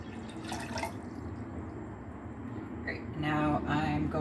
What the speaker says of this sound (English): I'm just gonna pour it into this pot